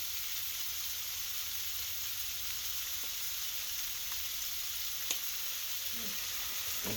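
Sausages sizzle steadily in a frying pan, a constant bright hiss with a few small pops and crackles, close and even throughout with no talking.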